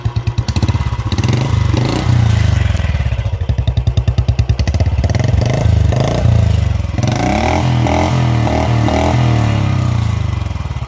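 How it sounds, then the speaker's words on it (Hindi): A Royal Enfield Classic 350 BS6 with a loud aftermarket exhaust idles with a deep, choppy burble, then revs up in several quick throttle blips, close and loud. "अब आपको मैं ऑन करके इसका एग्जॉस्ट नोट सुना देता हूँ तो ऐसा कुछ साउंड करता है आइडल पे मैं थोड़ा सा रिव्यू करता हूँ"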